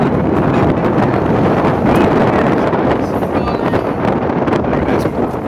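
Steady wind buffeting the microphone aboard a sailboat on a breezy outing, a continuous loud rushing roar that stays constant throughout, with no voices heard.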